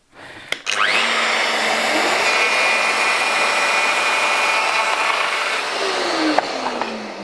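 A router running on a Leigh DR4 Pro jig cuts a sliding dovetail in a wooden board, a loud, steady high-pitched whine lasting about six seconds after a sharp start, then winding down.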